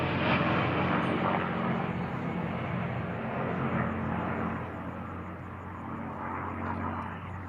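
A-10 Warthog jet during a flying display at an aerospace expo, a sustained broad roar that swells and slowly fades as it passes, fairly distant over the open-air ground.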